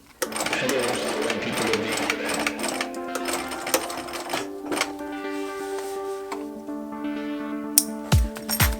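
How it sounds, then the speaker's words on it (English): A sewing machine stitches the fabric of a giant homemade duffle bag in rapid, steady whirring runs with brief pauses and a few sharp clicks near the end, close and fairly loud. "I'm just going to sandwich the other end in between those two folds and sew this together."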